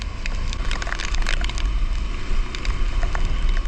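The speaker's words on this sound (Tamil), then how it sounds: "பா செம்மையாக காற்று அடிக்குதுங்க." Rough, continuous cyclone wind in Chennai, during Cyclone Michaung, buffets and roars across the microphone, with rattling and splashing noises mixed in throughout.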